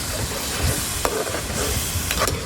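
Salt, crushed red chilli and turmeric fry in a pan for Peshawari biryani, making a constant hissing sizzle with occasional spoon scrapes. No one speaks.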